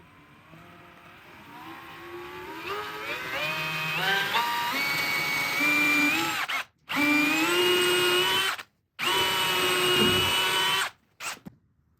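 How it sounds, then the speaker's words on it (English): A power drill whines and ramps up in pitch, pre-drilling steadily into a wooden beam, then runs in three loud bursts with brief pauses between, ending in a short final blip. "we need to pre-drill also in the second part of the beam"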